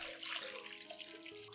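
Water pours steadily into a container, a soft continuous splashing stream that is quiet and close.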